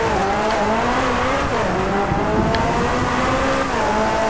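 Race car engine from the Drive Club video game, a steady droning whine that rises and falls, with faint tire squeal mixed in and no speech.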